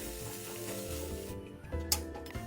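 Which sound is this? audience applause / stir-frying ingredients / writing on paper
stir-frying ingredients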